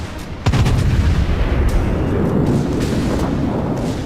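Heavy naval turret guns fire in World of Warships from a Bismarck battleship: a sharp, loud boom at the start, followed by a long rumbling roll of distant gunfire and shell impacts that carries on to the end.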